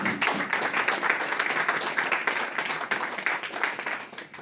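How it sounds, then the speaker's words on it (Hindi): A crowd at a TIENS India team gathering gives steady, fairly distant applause while guests are welcomed, a continuous patter of many hands lasting several seconds with no clear speech. "तालियां जोरदार"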